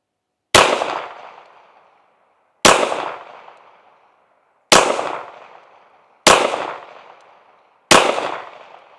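Five slow, evenly spaced shots from a Ruger RXM pistol firing Hornady Critical Defense rounds, each a loud sharp crack with a short decaying echo, alone without talk.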